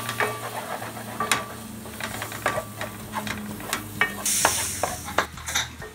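Rajma masala sizzles and fries in a pan after a light splash of water, with steady hissing and intermittent stirring scrapes close by, and no talking.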